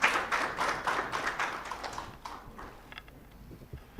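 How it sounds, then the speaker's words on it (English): Applause from a conference audience welcoming a speaker onto the floor: a dense, fairly steady patter of many hands clapping at moderate distance, fading gradually toward the end with no voices. "Hearty round of applause for her."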